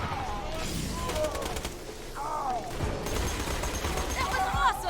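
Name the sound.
electric SMG firing in Borderlands 2 video game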